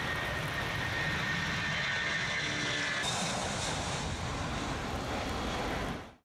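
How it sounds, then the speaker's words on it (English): A Silkway Boeing 747 roars steadily on takeoff at Hamburg Airport in brutal wet weather, a continuous broad rush of jet noise that fades out at the end. "The brutal weather at Hamburg Airport couldn't stop the Boeing 747 from taking off."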